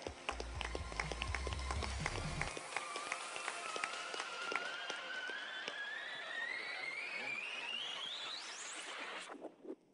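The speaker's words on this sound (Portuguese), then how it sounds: "Uma salva de palmas ao Juan Pablo de Vera." An audience applauds Juan Pablo de Vera at a trade fairs and events panel: dense, steady clapping fills the room for several seconds with a rising whistle-like tone over it, then cuts off abruptly.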